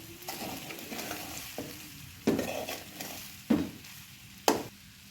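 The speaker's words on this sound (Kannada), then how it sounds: "ಇವಾಗ ಇದನ್ನು ಚೆನ್ನಾಗಿ ಮಿಕ್ಸ್ ಮಾಡ್ಕೊಳ್ಳೋಣ" Fried rice being stirred in a sizzling pan, with a steady frying hiss underneath and several sharp utensil scrapes and knocks against the pan, close up and with no talking.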